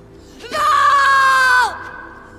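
A woman lets out a single loud, sustained scream of frustration lasting about a second before it cuts off, close and alone in an otherwise quiet room.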